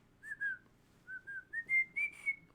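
Someone whistles a simple rising tune in a string of clear, separate notes, close and fairly loud, with no talking over it and little background noise.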